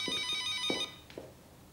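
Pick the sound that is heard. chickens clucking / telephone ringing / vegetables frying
telephone ringing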